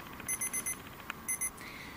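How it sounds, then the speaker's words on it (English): A digital camera about to shut off after its recording limit gives two quick bursts of high electronic beeps, each a rapid cluster of pips, faint and close against a quiet room. "That little beep means my camera's going to shut off any second now"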